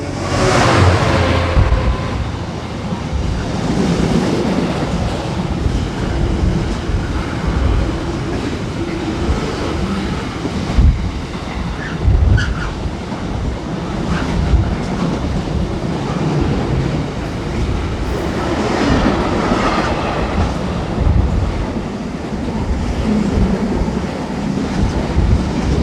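A Greater Anglia passenger train passes through a station, a loud continuous rumble and rail roar heard nearby with a rhythmic clatter of wheels over the track, swelling slightly as carriages go by, with no voices.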